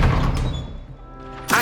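A spell effect from the Hogwarts Legacy video game: a dull, thudding magical impact with a brief swell, ending in a sharp burst, set within busy combat sound.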